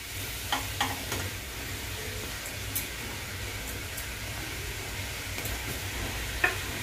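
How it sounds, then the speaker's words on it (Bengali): Jaggery powder being stirred into a pan of homemade plum jam, a soft steady scraping and faint bubbling hiss throughout, with a few light clicks of the spoon against the pan and no talking. "গুড়ের পাউডারটা দিয়ে আমি ভালো করে নাড়াচাড়া করে নিচ্ছি।"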